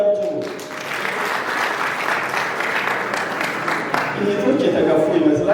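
Wives in a congregation applaud their husbands with a sustained, even round of clapping, and a speaking voice comes in over the last seconds.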